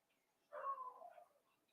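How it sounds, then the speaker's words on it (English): A single short bark rings out at a distance, faint and brief, with quiet surroundings before and after. "Oh, what's he barking at?"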